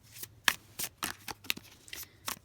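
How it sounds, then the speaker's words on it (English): Tarot cards are shuffled by hand in quick, crisp riffling bursts, about eight short flicks spaced irregularly, close and fairly quiet. "I'll just shuffle it properly, okay, on camera"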